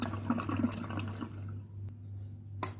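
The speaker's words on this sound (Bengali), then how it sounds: "আমি কাঁঠালগুলো পিস পিস করে আঠাগুলো ধুয়ে নিচ্ছি" Raw jackfruit pieces are rinsed by hand in water, with soft close sloshing and a few light drips over a low steady background hum.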